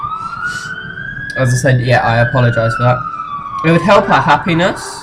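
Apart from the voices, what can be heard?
emergency vehicle sirens outside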